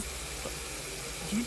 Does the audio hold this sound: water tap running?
yes